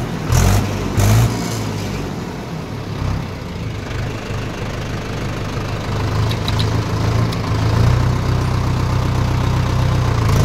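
A Mahindra 575 DI XP Plus tractor's diesel engine runs at a steady, loud idle for about ten seconds, with a low rumbling throb and a few louder bursts near the start.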